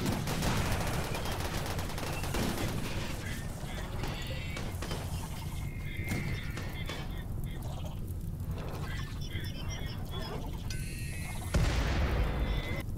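Explosions and gunfire from a raid in the video game Rimworld, including a burning mortar shell about to blow up, form a dense, continuous wash of game battle noise with a louder burst near the end.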